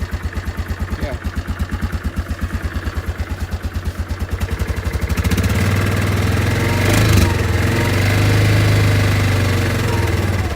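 A 2004 Yamaha Kodiak 450 ATV runs just after a cold start, first a rapid, even thumping idle of the single engine, then rising into a louder, steadier rumbling drone as revs increase, close and loud with no talking.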